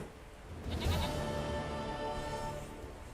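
A goat in The Witcher 3 gives one wavering, nasal bleat at close range, rising sharply and then trailing off over a steady game ambience.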